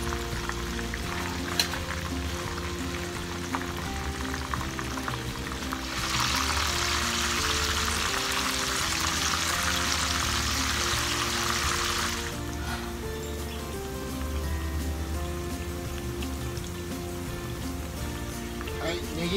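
Scallions and ginger sizzle gently in oil over low heat, a steady crackling hiss that swells into a brighter, louder frying burst for several seconds before settling back, with no speech heard.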